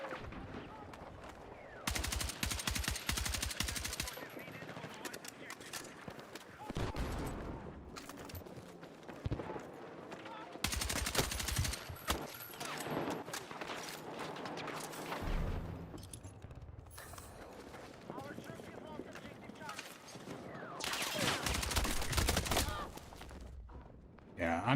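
An AK-205 rifle in Battlefield 6 fires in repeated automatic bursts, loud, sharp volleys separated by quieter gaps, with other in-game gunfire and a voice talking in the background.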